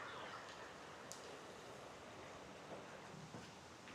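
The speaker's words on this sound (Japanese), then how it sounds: "ちょうど川の音が聞こえて心地いいですね" The Kanda River in Tokyo flows with a steady, soft rushing wash, heard faintly from a riverside path with light wind noise and no talking.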